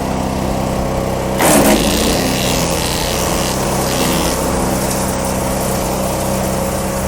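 A HECHT 6421 or 6208 garden shredder runs steadily with a continuous motor drone and hum throughout, with a brief louder surge of grinding noise near the start, and no talking.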